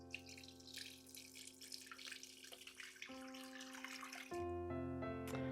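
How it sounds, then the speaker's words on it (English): Two cups of water poured into a sourdough mixture, a running trickle with steady tonal ringing that rises in pitch as the container fills, close and fairly quiet with no talking. "So we're going to have our 2 cups of water into our sourdough mixture."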